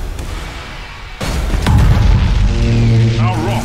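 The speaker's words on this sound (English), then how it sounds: "Main batteries, fire!" Main battery cannons in Battlefleet Gothic Armada 2 let out a deep, heavy boom that swells into a sustained rumbling roar, with a voice speaking over it.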